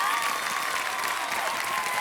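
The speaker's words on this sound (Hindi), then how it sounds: "जोरदार तालियों के साथ देवी संत स्वागत किया जाए।" A studio audience on the KBC quiz show set applauds steadily and densely to welcome guest Kajol, a continuous loud wash of clapping with a faint tone running beneath.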